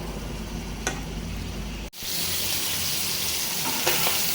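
Hilsa fish frying in hot oil, a steady close-up sizzling hiss that briefly drops out and then surges back louder and fuller, with no talking.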